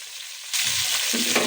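Fish frying in hot oil, a quiet hiss that abruptly swells into a loud, bright, steady sizzle partway through.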